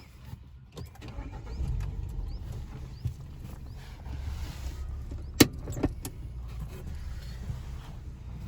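A CNG Hyundai Grand i10 engine hums steadily at low pitch while the car drives, with a few sharp clicks and knocks partway through.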